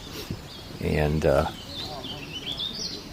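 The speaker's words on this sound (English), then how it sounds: "that sound you're hearing right now is a prothonotary warbler" A prothonotary warbler sings in bursts of bright, repeated chirping notes, heard fairly close amid other faint bird calls while a person speaks briefly over it.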